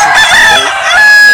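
A rooster on a poultry farm crows once, loud and close, its long strained call rising and holding before breaking off, with other hens faintly clucking around it.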